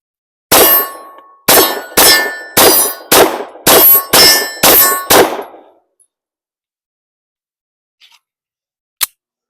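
Eight sharp Glock 17 pistol shots at a shooting range, fired in a steady rhythm about every half second, loud and close, each with a short ringing tail, followed by silence and one faint distant report near the end.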